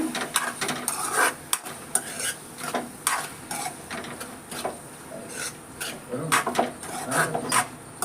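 Vegetables with Schezwan sauce stirred in a pan, rapid rhythmic scraping and clanking of a spoon against metal over a light sizzle, close and busy throughout.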